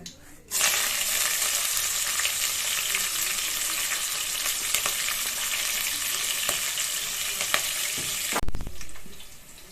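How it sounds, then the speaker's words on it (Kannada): Green chillies dropped into hot oil with cumin on low flame for egg rice: a sudden loud sizzle that holds steady and close for several seconds, with a few stirring clinks, before cutting off. "ಈಗ ಮೆಣಸಿನ್ಕಾಯಿ ಹಾಕ್ತೀನಿ ಮೆಣಸಿನ್ಕಾಯಿ ಹಾಕ್ತಾ ಇದ್ದೀನಿ"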